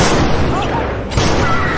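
A sharp gunshot rings out in a film scene where a president is shot while giving a speech, followed by a burst of loud noise and echo over a dense crowd-like background.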